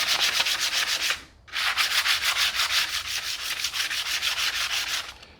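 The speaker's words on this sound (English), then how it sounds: "let's take a little bit of sandpaper." Sandpaper rubs briskly back and forth over a drilled metal pipe to smooth burrs, a rhythmic scratchy rasp in quick strokes with one short pause, close and fairly loud.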